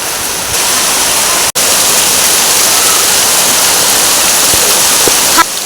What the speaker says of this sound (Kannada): ಇದು ಫಸ್ಟ್ ಮಳೆ